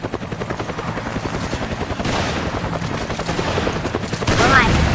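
Gunfire rattles in Resident Evil 5 versus play, dense bursts of shots layered over a continuous loud roar that thickens toward the end; no clear speech over it.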